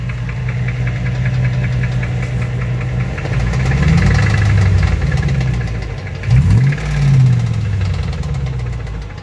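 A 5.7 Hemi engine with a failing lower end bearing knocks loudly while idling. Its steady rapid pounding swells twice as the engine is revved, close up and with no talk.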